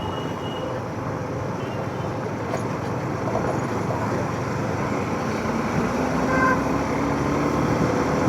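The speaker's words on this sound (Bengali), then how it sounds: "বালিগঞ্জে ব্রিজে উঠতে না উঠতেই এত জ্যাম" A traffic jam on Ballygunge bridge in Kolkata, heard from a motorbike: a constant low rumble of idling and creeping vehicles, with a brief horn-like tone standing out near the end.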